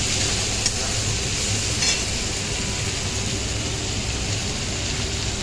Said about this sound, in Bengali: এবার চুই ঝালগুলো দিয়ে দিলাম। বেশ খানিকক্ষণ ধরে ভাজতে হবে।